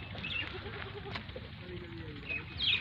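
A Faisalabadi Beetal dairy goat bleats a few times in short calls over steady outdoor background noise, with someone talking nearby.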